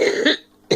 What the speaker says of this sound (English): Goodness, I can't quit coughing.